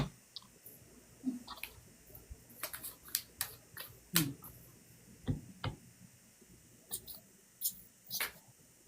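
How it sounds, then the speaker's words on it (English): Tarot cards are shuffled in soft, irregular bursts of riffling clicks and slaps, faint and close, with quiet pauses between the bursts. "I can hear Bren shuffling too"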